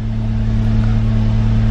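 A 2003-2008 Volkswagen Golf R with a new exhaust system idles in race mode, giving a steady, close, loud drone with a strong low hum and no voices.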